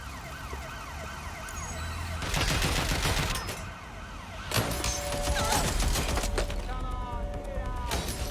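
Gunfire in Watch Dogs Legion crackles in bursts over wailing police and emergency sirens, loud and busy, with shouted game voices and speech mixed through.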